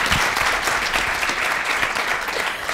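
Audience applauding at a talk or awards gathering, dense steady clapping from a crowd filling the room without a break.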